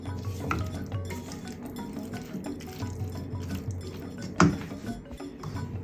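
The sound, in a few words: stirring curry with soy chunks in a pot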